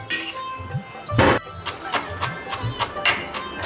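Spices for paneer thetcha are pounded in a mortar, a series of sharp, irregular thuds and clinks, one louder strike standing out among quicker, fainter hits.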